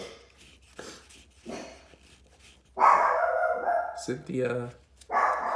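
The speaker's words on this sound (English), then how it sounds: "Sorry for my dog too. That's just like barking like crazy." A dog barks repeatedly and loudly in the background of a Pokémon card game session, bursts around the middle and end standing out over a person talking.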